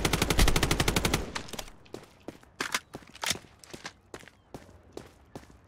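Rapid automatic gunfire from a video game weapon with heavy recoil, a loud continuous burst for about a second, then scattered single shots, impacts and footsteps at irregular intervals.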